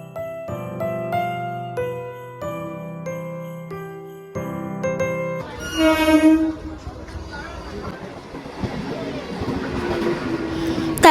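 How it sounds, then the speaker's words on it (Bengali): Tonal chimes or a melodic announcement jingle play first, then a train arrives at a station on the way to Ranaghat, a horn blast followed by rumbling, clattering wheels. "তারপর আমাদের ট্রেন চলে আসলো"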